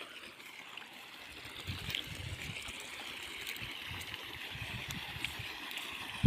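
Irrigation water runs through a pearl millet field in a quiet, steady trickle and gurgle, soft and outdoors, with no talking.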